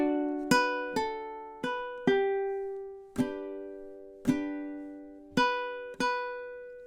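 Ukulele plucking single notes of the opening bars of a song with a pickup, eight distinct ringing notes in a steady, unhurried rhythm, close and clear, with no voice.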